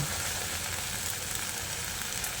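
Soft, steady sizzle of a pan of gathi kochu (taro) as ghee and shahi garam masala go on top, a faint even hiss with a small clatter at the very end.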